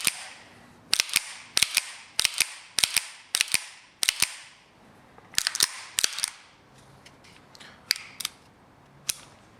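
Slide of an unloaded pistol racked again and again, sharp metallic clacks arriving in quick pairs and clusters with short pauses between, close and crisp in a quiet room.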